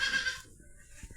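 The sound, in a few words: Beetal goat kid bleating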